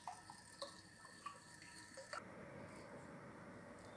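A condenser test pipe is opened into a flask, releasing a steady, moderately loud rush of running water that sets in after a few faint drips and clinks and carries on without a break.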